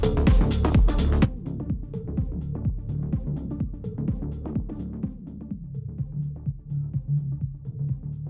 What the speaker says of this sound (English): Somewhere there, you're going to get something called mud and goop and bleh.